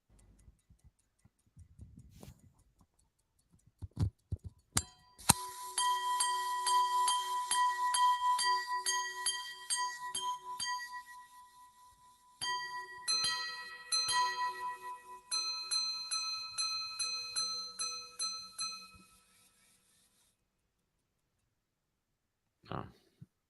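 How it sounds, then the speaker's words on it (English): A minute repeater watch chimes in a quiet room, striking a run of bright metallic tones, then pausing before a second longer series; faint clicks and handling noises come before and after. "I think we can listen to the minute repeater here,"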